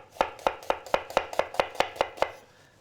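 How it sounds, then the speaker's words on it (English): A knife chops through an onion on a cutting board in a steady run of about ten crisp, evenly spaced strikes, close and clear, with no voices. "When you cut an onion, again, you cut in half, and you go with the onion"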